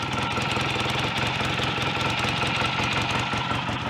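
A BSA A65 motorcycle engine idles steadily at roughly 1000 to 1500 RPM, a close, continuous rhythmic mechanical thrum with no speech over it.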